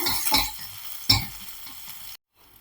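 Crushed garlic frying in hot oil in a pan, a broad sizzle with two sharp stirring scrapes, close and fairly loud, cutting off into near silence at the end.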